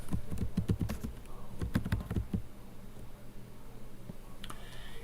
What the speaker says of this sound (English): we'll type in here packaged foods